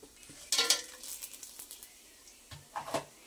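Bay leaf, cinnamon and cloves crackle in hot oil with mustard seeds and cumin for a vegetable biryani, heard as a faint sizzle with a few brief scraping stirs of a spoon in the pan.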